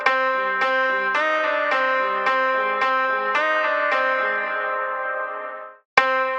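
A distorted synth tone from Ableton Simpler's drive, applied before its filter circuit, repeats as a series of bright, buzzy, sustained notes that fade out, then a sharp new note cuts in.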